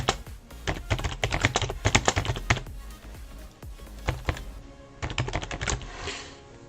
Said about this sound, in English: trying to rapid fire on the keyboard this way